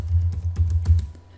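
Fingers type a router configuration command on a computer keyboard in a quick run of close, soft keystrokes over a low background hum.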